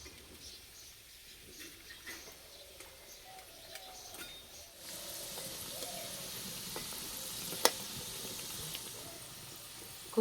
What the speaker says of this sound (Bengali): আস্তে আস্তে জাল দেবো আর ভেজে নেব।